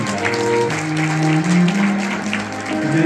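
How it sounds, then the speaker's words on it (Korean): Wedding guests applaud in a hotel banquet hall in Gangnam, a dense, steady clapping throughout while a piano quartet plays softly beneath. "여러분 박수 부탁드립니다"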